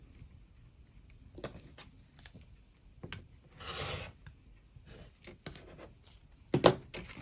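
Paper and fabric of a foundation paper pieced quilt block are trimmed with a few soft rasping cuts and scuffs, quiet and close, with a louder brief scrape near the end and no talk.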